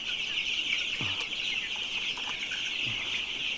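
Colour bird chickens on a 1,500-bird poultry farm give a couple of short, low clucks over a constant high hiss of farm background noise.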